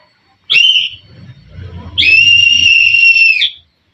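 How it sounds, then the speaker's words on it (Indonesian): A whistle sounds Morse code letter A: a short sharp blast, then a pause, then a long sustained tone, loud and close. "kita kasih contoh dengan peluit ini"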